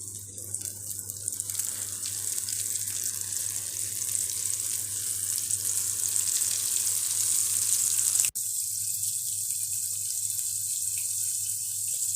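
Fish fries in hot oil with a steady, bright, crackling sizzle that runs throughout, cutting off abruptly for an instant near the end before continuing slightly quieter, with no talking.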